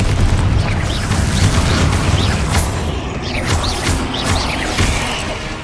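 Confringo fire-blast spells exploding in Hogwarts Legacy combat, a series of deep booms and crunching impacts rolling over a rumbling, mechanical-sounding game background, loud and continuous with no talk.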